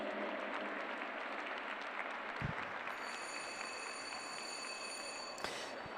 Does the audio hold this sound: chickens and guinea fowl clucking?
no